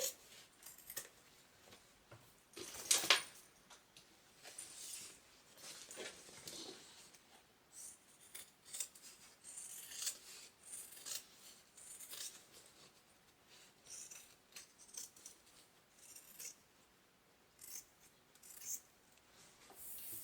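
Scissors snip through the seam allowance of a fabric lining on a small sewn tote bag, a run of soft crisp cuts with one sharper clack near the start, close and quiet with no talk.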